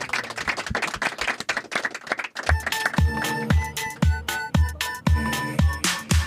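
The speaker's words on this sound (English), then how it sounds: "Give yourselves a round of applause" A live podcast audience breaks into brisk, crowded clapping, which gives way after a couple of seconds to music with punchy, regular drum hits.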